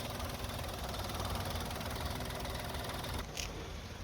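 A 2017 Kia Morning with a petrol engine idles quietly and steadily, a smooth, even hum that continues without change throughout.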